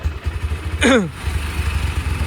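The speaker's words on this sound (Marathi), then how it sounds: "आणि जस्ट चालू केलेली आहे बाईक" A motorcycle engine just started and idling, a steady near putter with brief clatter and a rising whine partway through.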